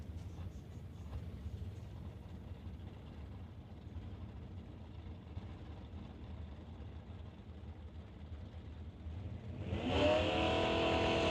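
A pickup truck at an NHRA Lucas Oil divisional drag race at Mission Raceway rumbles steadily, then erupts into a sudden loud rev near the end.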